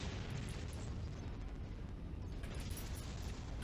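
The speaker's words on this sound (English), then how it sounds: "That is ammo exploding." Ammunition cooking off in MechWarrior 5: Mercenaries, a sustained rumbling barrage of explosions, dense and continuous, at moderate distance with no clear gaps.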